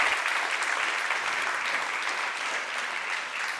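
A forum audience applauds after a presentation, a steady wash of many hands clapping evenly throughout with a faint crowd murmur beneath.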